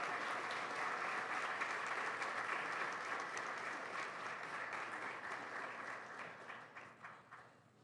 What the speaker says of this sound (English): Let's give a big round of applause to all those support people.